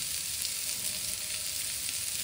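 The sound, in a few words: masala sizzling as it is sautéed in a pan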